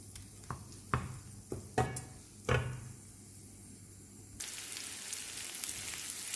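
Shrimp scampi frying in melted butter with garlic in a pan: several sharp clacks and knocks of cookware come first, then a steady hissing sizzle takes over for the last couple of seconds.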